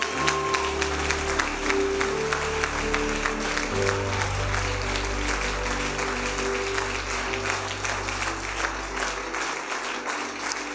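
A church congregation claps and cheers in sustained applause that runs steadily throughout, dense and loud, over a low organ or keyboard drone.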